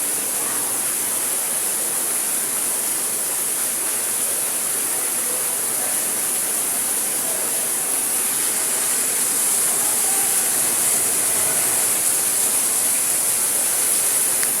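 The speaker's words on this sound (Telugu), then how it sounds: "water fall," An artificial waterfall at an exhibition gives a steady, loud broadband rush of falling water that stays constant throughout, with no voices.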